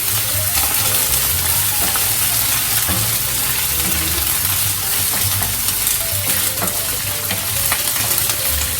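Ginger and garlic sizzle in a pan with browned onions, fried for sarson da saag. The dense, crackling frying continues throughout, with occasional stirring scrapes, close and fairly loud.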